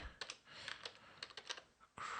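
Keys clacking on a computer keyboard in short irregular bursts of close, crisp taps, with a brief pause before a steadier hiss of background noise at the end; no one speaks.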